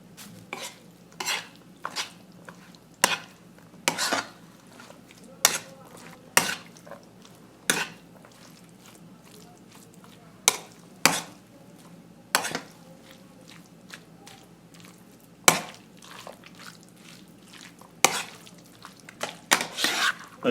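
Spoon repeatedly clinking and scraping against a bowl while chana chaat is stirred together with onion, chili and chaat masala, a steady run of sharp, close taps with quiet gaps between them and no talking.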